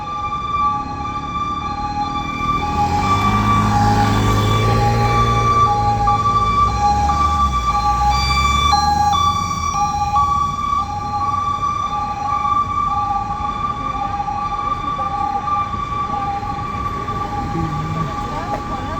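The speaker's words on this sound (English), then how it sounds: "Oh, an ambulance." An ambulance siren wails along an evening street in Tel Aviv, loud and sustained with steady tonal cycling over traffic rumble and background voices for nearly twenty seconds.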